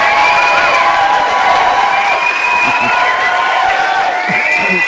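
Studio audience cheering and applauding, a dense steady roar of clapping and whoops at high volume throughout, with voices shouting over it.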